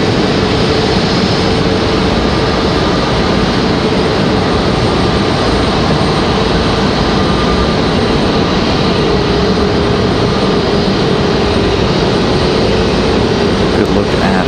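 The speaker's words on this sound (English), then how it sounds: "It does appear that A321 gonna head to the corner there." Airbus A321neo airliner taxiing at Raleigh-Durham International Airport: a loud, continuous broadband jet engine roar with a faint steady whine, close by and unbroken throughout.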